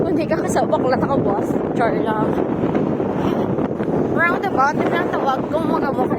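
Strong wind buffets the microphone in a steady rumbling roar, with people talking loudly over it throughout.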